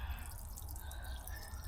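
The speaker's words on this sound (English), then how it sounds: "you can actually see the water running down the pipe" Water siphoning through a hose from a motorhome's fresh water tank, a steady close trickle and gurgle of running water without pauses.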